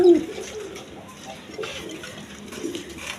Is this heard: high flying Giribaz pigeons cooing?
yes